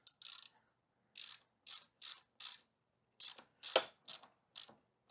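Short bursts of a socket wrench ratcheting as a 10 mm socket snugs a bolt on the front master cylinder connector of a Honda CBR600RR motorcycle, about eleven quick clicking strokes in uneven groups, close and clear against silence.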